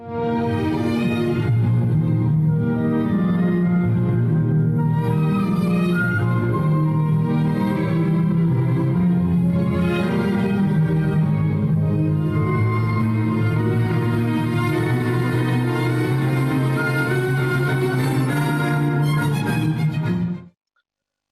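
An orchestra plays the smooth, flowing, lyrical second melody from Beethoven's Fifth Symphony with warm sustained strings, steady and full for about twenty seconds before ending abruptly.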